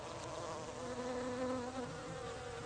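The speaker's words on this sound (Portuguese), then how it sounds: "Existem várias espécies de abelhas, moscas, vespas, criaturas assim que vão pousar ali em busca do néctar." Bees, flies and wasps buzz around the flowers of a climbing plant, a continuous close-up hum of wings that wavers slightly as the insects shift about, with no voices.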